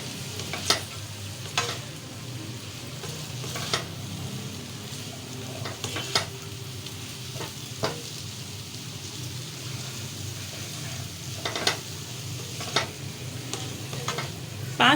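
Masala bhindi (okra) is stirred in a pan of gravy, with a continuous soft sizzle and repeated sharp scrapes and taps of a spoon against the pan at irregular intervals.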